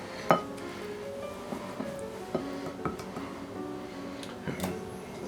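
Ginger tamarind marinade for pork chops stirred in a bowl, with light clinks and taps of a utensil against the dish, irregular and close but quiet, with no talking.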